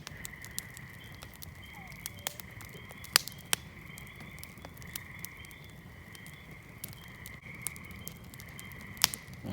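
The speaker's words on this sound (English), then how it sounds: "Listen to all the frogs." A chorus of frogs croaks steadily outdoors near a campfire by old wooden sheds, with sharp crackles and pops from the fire scattered throughout.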